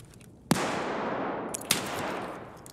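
Gunfire in Escape from Tarkov: two sharp, loud gunshots about a second apart, each followed by a long echoing tail that decays into the surroundings.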